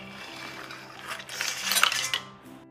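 Swimming crab simmered with rice balls in a little broth being dished out of a wok, with clinking metal utensil and crockery scrapes that build to a cluster of sharp clatters near the end.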